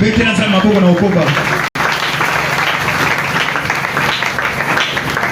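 A church congregation applauds and cheers in praise of God, loud sustained clapping mixed with voices and shouts, a brief dropout partway through, then the crowd keeps going.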